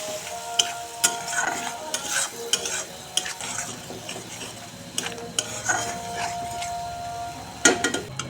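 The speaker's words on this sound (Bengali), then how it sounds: "এখন মশলা ভালো করে কষিয়ে নেব" Spice paste with slit green chillies sautés in a pan for a vegetarian potato and paneer curry, frying steadily while a spatula stirs and scrapes in irregular strokes, close and fairly loud, with no talking.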